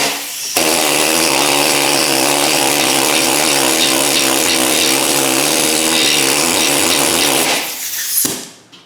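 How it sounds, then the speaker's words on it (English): An old, leaky air-powered needle scaler hammers rust off a Subaru Crosstrek's suspension around the ball joints, a loud, steady high-pitched buzzing rattle that runs continuously for several seconds before cutting off abruptly. "I think we'll use the needle scaler. She's old school and it leaks because it needs a new air fitting on the end."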